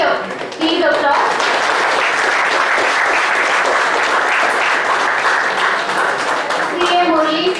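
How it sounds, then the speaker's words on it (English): A hall of people clapping in a sustained, full round of applause at a school Teachers Day celebration, loud and steady, with brief speech before the clapping swells and at its tail. "Can we please applause?"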